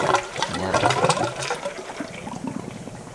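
Water pouring and trickling into an African cichlid aquarium tank through its filter, a steady close splashing flow with bubbling texture that holds throughout.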